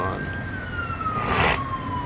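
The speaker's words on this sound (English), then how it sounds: "sirens." A siren wails steadily at a distance over traffic noise, its tone sliding gradually lower.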